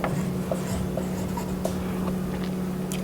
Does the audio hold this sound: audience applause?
no